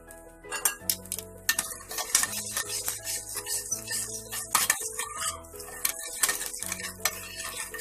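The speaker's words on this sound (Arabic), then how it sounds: "هنزل الثوم كله كده حبايبي وابتدي بقى ايه اشوح فيه" Garlic sautéing in a single pan for Egyptian-style eggplant moussaka, heard as busy metallic clinks and scrapes of a utensil against the pan with a soft sizzle underneath, close and continuous.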